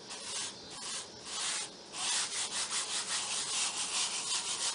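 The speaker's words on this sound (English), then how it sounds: "And just kind of rub it down so that all the ink comes into contact with the fabric." Fabric being rubbed down by hand onto shaving cream marbled with ink, a close, steady back-and-forth swishing that is soft at first and then settles into quicker, even strokes, with no talking.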